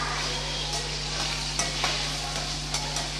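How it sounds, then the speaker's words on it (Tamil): Bitter gourd sautéing in oil in a pan, a dense continuous sizzle with occasional scraping strokes of a spoon, steady and close over a low electrical hum, with no talking. "பாகக்காயை இந்த மாதிரி எண்ணெயில் வதக்கிட்டு"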